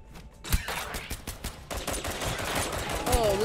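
Rapid gunfire in the spy shooter Deceive Inc., a string of sharp close shots and bursts with a loud crack near the start and another near the end, over busy game noise.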